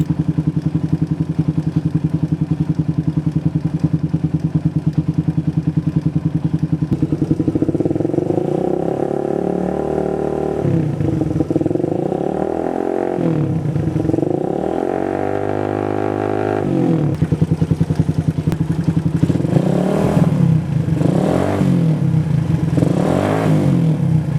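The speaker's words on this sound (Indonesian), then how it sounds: "Kita matikan dulu untuk motornya" A Suzuki Satria FU motorcycle engine idles steadily and loudly close by, then is blipped several times in rising and falling revs, with a rougher burst of throttle revving near the end.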